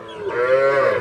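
A single cow at a livestock market moos, a short, full, resonant low call close by.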